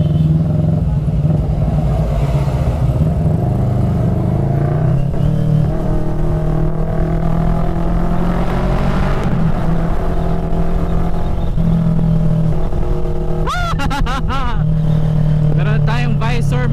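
A CFMOTO 400NK motorcycle rides through highway traffic, its engine droning steadily up close under buffeting wind, with shifts in pitch as it accelerates, while a rider talks over it and another vehicle sounds briefly near the end.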